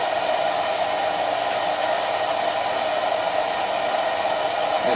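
An electric blower from a BMW E39 EV conversion runs at high speed, giving a loud, steady, rushing whine of air with a constant pitch and no pauses.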